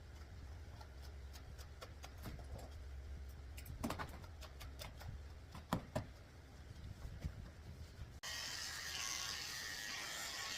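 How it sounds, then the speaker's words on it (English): Thinning shears snipping a Yorkie puppy's fur during its first haircut, quiet irregular metallic clicks close by. A steady hiss rises near the end, and there is no talk. "so I'm using my thinning shears just to get them out"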